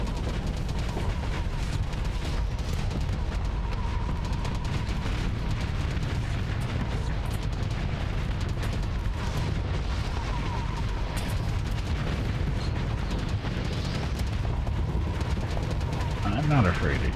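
Battleship guns fire in the space combat game Starsector, a steady dense barrage of heavy booms and blasts rumbling continuously throughout, loud and sustained with someone talking over it.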